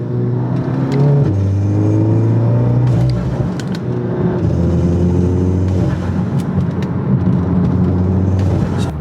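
An Audi A3/S3 engine fitted with an IE carbon fiber cold air intake revs hard with a loud intake roar, pitch rising and falling through several bursts, close and continuous with no talking.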